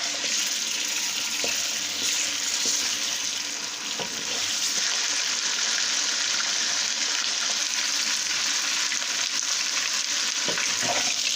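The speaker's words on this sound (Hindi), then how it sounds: "अब इसमें हम आधा किलो गोश्त है वो डाल देंगे और इसकी बुनाई करेंगे" Half a kilo of meat sizzles in hot oil in a pot, being browned for Lahori murgh channay. A steady, loud, bright frying hiss holds throughout, with a few soft stirring knocks and no voices.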